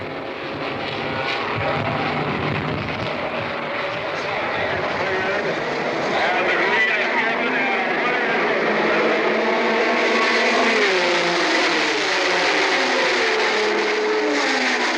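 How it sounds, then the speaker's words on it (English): Sixty-eight race cars, among them Ferraris and Porsches, roar away at the start of the 1970 Sebring 12-hour endurance race on the 5.2-mile road course, a loud sustained engine drone under a commentator's voice. "68 cars are ready for the 20th running of the Sebring 12-hour Endurance Classic"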